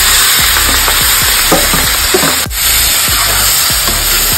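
Marinated duck meat frying in a hot pan, a loud continuous sizzle with crackles and stirring scrapes, briefly dipping midway, no voices.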